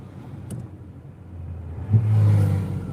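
A Porsche driving past and revving, a low engine rumble that rises suddenly into a strong, swelling roar close by, then fades slightly as it moves on.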